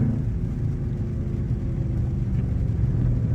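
Catless RT engine idling with a deep, steady low rumble, close and fairly loud, with no talk over it.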